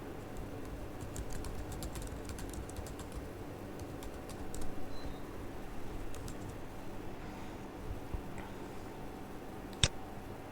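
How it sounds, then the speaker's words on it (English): Light keystrokes on a computer keyboard, scattered quiet clicks in short runs over faint room hum, ending with a single sharper tap of the enter key near the end. "hit the enter key on your keyboard"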